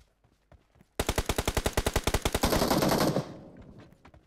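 Rapid automatic gunfire in PUBG Mobile, a loud burst of about sixteen evenly spaced shots that blurs into a sustained roar of fire before cutting off, with faint game noise before and after.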